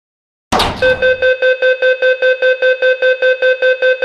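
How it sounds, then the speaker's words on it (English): A loud electronic train door closing alarm in Minecraft beeps in a steady, rapid repeating pattern after a brief burst of noise, a pulsing two-tone chime continuing without pause. "The train doors are closing."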